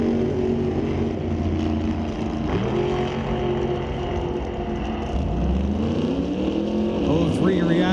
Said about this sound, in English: Daryl Baker piloting a 1998 second gen S10, powered by a 632.